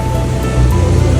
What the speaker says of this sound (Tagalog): Tumigil muna kami saglit kasi medyo lumalakas yung ulan.